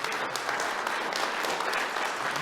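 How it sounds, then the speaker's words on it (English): Audience applause at a talk on America's grand strategy toward China, steady crowded clapping at moderate volume, continuous from start to finish. "Would you please give everyone a round of applause?"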